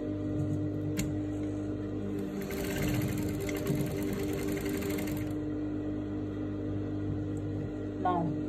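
A sewing machine stitches skirt panels together in a steady, loud mechanical whir, with a brief faster burst partway through and light clicks at either end.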